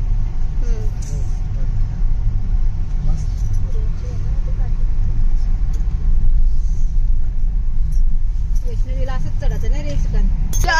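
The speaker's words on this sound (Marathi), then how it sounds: "इथे खूप ट्रॅफिक आहे, खूप गर्दी आहे" Steady low rumble of busy road traffic, cars and buses moving in a crowded street near a temple, continuous and fairly loud, with voices talking over it throughout.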